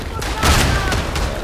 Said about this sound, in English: I'm gonna flog some grenades into the trench